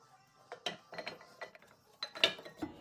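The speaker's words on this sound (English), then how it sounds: "We have to press this piston back inside." A Toyota Supra brake caliper piston being pressed back in gives short, quiet mechanical clicks and scraping bursts in an irregular rhythm, close by, with no talking.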